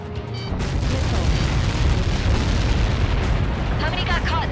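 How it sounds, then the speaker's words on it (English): A huge blast from a strategic projectile strike in the aerial combat game Ace Combat 7 erupts and holds as a loud, sustained roar with dense rumbling, then fades under faint radio chatter. "How many got caught in that explosion?"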